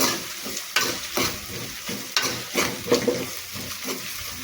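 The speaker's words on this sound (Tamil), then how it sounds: "நல்லா அந்த இஞ்சி பூண்டு வதக்கி பச்சை வாசனை போகிற வரைக்கும் நல்லா வதக்கணும் கை விடாமல்." Ginger garlic paste fries and is stirred nonstop for a chicken curry, a near, steady sizzle punctuated by regular spoon scrapes against the pan.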